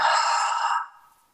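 A single deep exhale during a guided breathing meditation, a broad breathy rush that holds steady for most of a second close to the mic, then tapers away into quiet.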